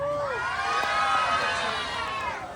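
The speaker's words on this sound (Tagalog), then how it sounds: "Wala rin po bang hiyawan dyan?" A pageant crowd at a Pride national costume show cheers and shouts, a steady roar of mixed voices with rising whoops that holds at a loud, even level throughout.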